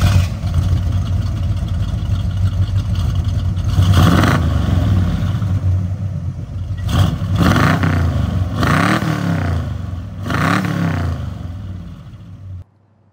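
A 1968 Oldsmobile 442 convertible drives along with a steady, loud engine drone that swells in several revving surges near the end before fading out abruptly.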